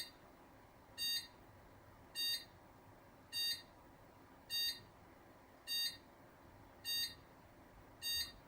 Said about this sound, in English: What's that? 8 beeps.